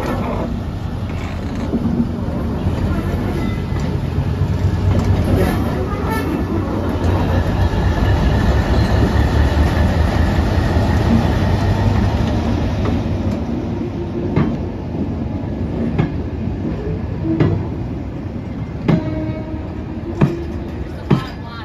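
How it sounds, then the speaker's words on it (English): A Class 60 diesel locomotive hauling a freight train rumbles past close by at a diesel gala on the South Devon Railway, a deep sustained engine drone with wagons clattering, easing off toward the end with a few sharp clanks. "The Class 60 worked freight train in the evening"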